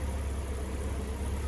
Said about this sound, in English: The noise of the engine, fantastic.